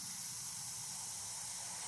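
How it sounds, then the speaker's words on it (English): An airbrush sprays Createx paint onto a stencil on Blair synthetic paper, giving a steady close hiss of compressed air and atomized paint that holds constant for the whole short stretch. "Spray mostly on the stencil right in the corner."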